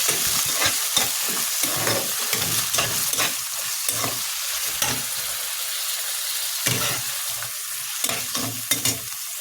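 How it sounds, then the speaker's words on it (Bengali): Small pieces of meat dropped straight into a hot pan without pre-frying, a continuous loud sizzle broken by repeated stirring scrapes. "এখন আমি এই অল্প মাংসগুলো এভাবে ছেড়ে দিচ্ছি"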